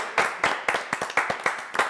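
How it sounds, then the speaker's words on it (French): Rhythmic applause on a French TV variety show: a studio audience claps in unison, about eight sharp, evenly spaced beats that sound close and clear with no talking. "allez on l'applaudit"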